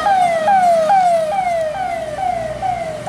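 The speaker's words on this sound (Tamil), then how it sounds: "இப்போ இந்த மாதிரி ஆம்புலன்ஸ் வருதுங்க" A loud ambulance siren on a road, heard close by from a moving private bus. Its wail sweeps down over and over in a steady rhythm, with traffic rumble underneath.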